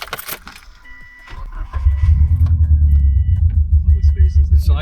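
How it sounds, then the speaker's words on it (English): A modified Subaru WRX turbo car starts up: keys jangle and electronics chime, then the engine cranks and settles into a loud, steady low rumbling idle nearby, with a voice talking. "I'll turn the car on for a second."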